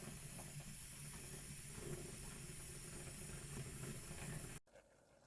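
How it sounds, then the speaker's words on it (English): A continuous hiss of chain wax sprayed heavily from an aerosol can onto the chain of a Suzuki GZ250 motorcycle, close and steady for several seconds before it cuts off abruptly. "with it being the chain wax, I like to spray it on fairly heavy"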